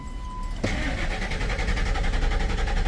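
A Ford F-150 engine cranks without catching after an engine computer swap: a steady, rhythmic starter churn begins abruptly after a brief electronic tone and continues loud and close for a few seconds, with no voices.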